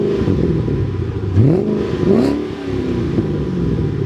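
Ford Mustang GT500 accelerating hard, the engine note sweeping upward in two distinct rising pulls with a gear change between, loud and close over steady road rumble, no talking.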